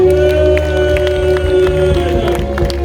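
A church congregation cheers and acclaims the Lord during a New Year's Eve night worship service, a steady roar of voices carried over sustained keyboard-like music and low bass that lasts throughout.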